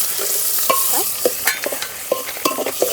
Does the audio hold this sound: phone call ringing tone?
no